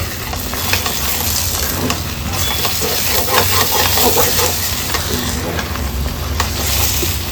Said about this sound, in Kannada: ಇನ್ನೊಂದು 2 ನಿಮಿಷ ಮಸಾಲೆ ಫ್ರೈ ಆಗಲಿ